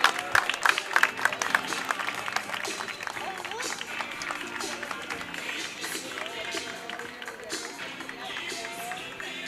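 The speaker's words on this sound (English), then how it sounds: "gets a well-deserved round of applause from the fans on both sides" Fans at a high school baseball game between Vandegrift and Westwood applaud a departing pitcher, a dense spread of clapping and crowd noise running steadily with voices mixed in.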